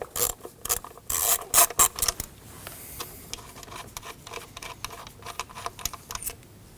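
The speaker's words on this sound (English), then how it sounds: "Using an 8mm, we can go ahead and remove the bolt holding in the coil pack" Ratchet with an 8mm socket backing out the bolt on an ignition coil pack of a 2015-2024 Ford Edge, producing close, irregular bursts of clicking and rasping with no talking.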